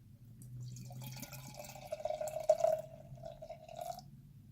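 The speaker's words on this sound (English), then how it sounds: "I'm going to pour this into my," Barrel-fermented farmhouse beer pours into a glass, a close, thin liquid stream whose tone rises steadily as the glass fills over a few seconds before stopping.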